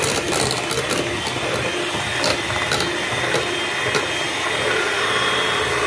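A mixer grinder blends dosa batter with sugar, its motor running as a loud, unbroken whir with a few rattling knocks from the jar, close by and without speech.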